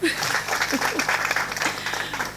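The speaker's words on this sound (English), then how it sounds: "If you're ready to buy copies, please clap." An audience claps at an African book launch, a steady spatter of applause with a voice speaking over it.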